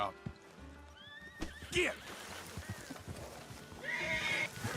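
A horse in the video game Red Dead Redemption 2 whinnies loudly, with hoofbeats and a shouted word around it, then a second neigh near the end; someone speaks briefly.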